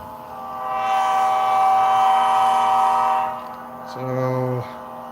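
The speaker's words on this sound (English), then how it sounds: "That is the Overland Models SD70 ACE, and it's got TCS Wow sound in it" An Overland Models SD70ACE model train locomotive fitted with TCS WOW sound blows a loud sustained multi-tone horn, then a shorter second blast, close and clear over a faint background rumble.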